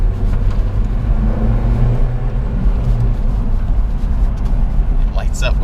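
An old, small turbocharged car with an oil leak being driven, its engine a loud, steady drone and whir with road rumble that rises slightly as it pulls, with a voice talking over it.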